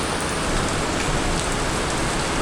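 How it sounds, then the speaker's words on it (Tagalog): Rain falling during a ride in New Zealand: a dense, steady hiss of heavy rain pattering on surfaces, loud and close. It holds unbroken throughout with no voices. "Oh, ngayon lang ulit ako nakaligo ng ulan."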